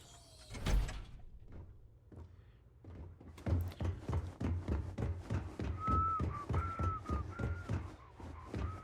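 A player character in the video game Starfield whistles a short, wavering tune amid rhythmic thumping footsteps and clunky game sounds, moderately loud and close.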